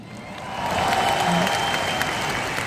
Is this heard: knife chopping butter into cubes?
no